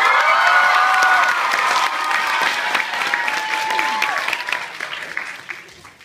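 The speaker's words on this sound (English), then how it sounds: "thanks for that thunderous applause" Loud, dense applause from a graduation ceremony audience at a school, sustained for several seconds with some cheering mixed in, then gradually tapering off.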